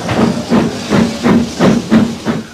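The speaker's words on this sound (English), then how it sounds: "The Puffing Billy is still the workhorse of the countryside and of the hills." An Indian steam locomotive chuffs and hisses steam in a steady rhythm of about seven loud, close exhaust beats with a low mechanical drone underneath.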